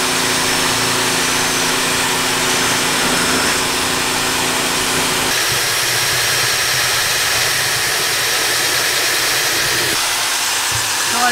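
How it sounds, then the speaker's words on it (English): An electric drill spins a spiral mixer in reverse through foam concrete slurry, a loud, steady high-pitched whine with a shift in tone partway through, continuous and close. "So put the drill on reverse."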